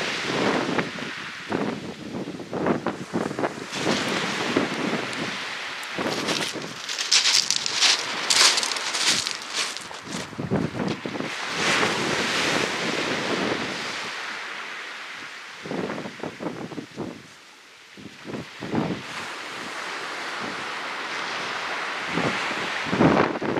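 Steady wind buffets the microphone at the seaside during shore fishing, a continuous broadband rush with gusting swells and some rustling, loud and close throughout with no talk.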